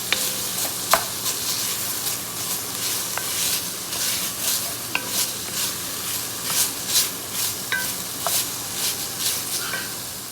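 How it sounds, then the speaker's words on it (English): Italian sausage browns in a hot pan with a constant close crackling sizzle, broken by sharp pops and occasional spatula scrapes. "We're just browning some Italian sausage here, and we're gonna add our ground beef in a little bit."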